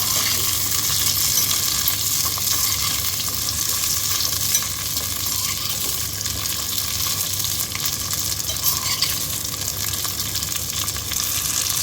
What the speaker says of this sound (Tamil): இது எல்லாத்தையுமே இப்போ நல்லா ஃப்ரை பண்ணிக்கலாம்